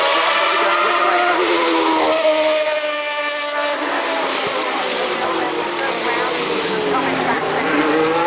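Race cars at the Goodwood Festival of Speed, with high-pitched engines screaming past continuously, pitch rising and falling as they accelerate and pass by, loud and close, with a commentator faintly under the noise.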